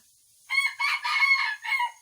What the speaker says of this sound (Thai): ไก่ตัวนี้ก็ขันดีดี